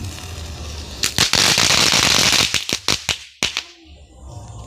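A string of firecrackers bursts in sharp, loud cracks, first in a dense crackling rush, then as separate pops tapering off, heard outdoors with no voices over the bangs.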